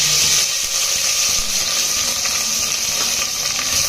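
Onions, fennel, curry leaves and green chillies frying in a pan, a steady soft sizzle with a bright hissing tone, constant and close, without speech.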